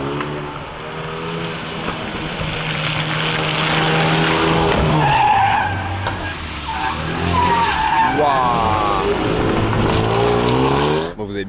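A Cupra ATK race car skids around a steep banked track, its engine roaring loud and close with sustained tyre squeal rising and falling over several seconds.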